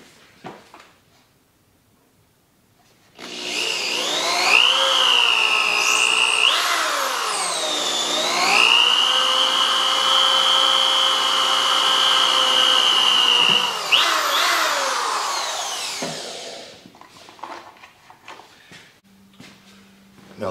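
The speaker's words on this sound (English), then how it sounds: "I am pre-drilling" A power drill pre-drills holes in a trailer deck during a rebuild, a loud whirring motor with pitch shifts as the bit bites and spins for about thirteen seconds, framed by quiet handling clicks.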